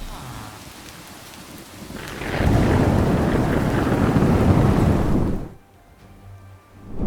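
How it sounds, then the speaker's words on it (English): Thunder rolls with heavy rain in Minecraft with a sound physics mod. A soft patter swells into a loud, rumbling crash of thunder over pouring rain lasting about three seconds, then drops away to quiet. "Hear the thunder one more time if you want to know what I'm talking about."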